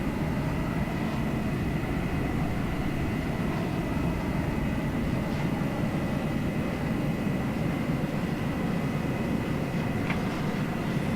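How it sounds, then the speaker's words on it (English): Lockheed F-104 Starfighter jet in a flight game, engine roaring at steady power during the takeoff run, a loud continuous broadband rumble with a high whine held throughout, no pauses. "So now we take off"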